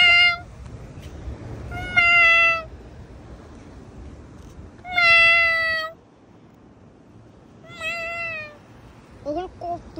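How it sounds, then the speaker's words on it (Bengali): A cat at a large multi-storey mall in Saudi Arabia meows four times in separate drawn-out cries, close and clear, with quieter trailing calls at the end over a low background hum. "আর দেখেন একটা বিড়াল"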